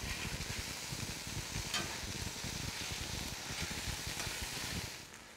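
Meat sizzles steadily on a Blackstone griddle over medium heat, a dense close-up crackle and hiss with faint scraping, continuous and even before easing off at the very end.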